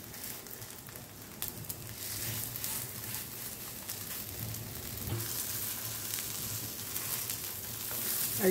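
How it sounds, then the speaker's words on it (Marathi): Ragda patties fry in oil on a non-stick tawa over a medium gas flame, giving a steady close sizzle with occasional soft stirring scrapes and no talking. "आता याला एक एक करून शेकून घ्यायचं आपल्याला।"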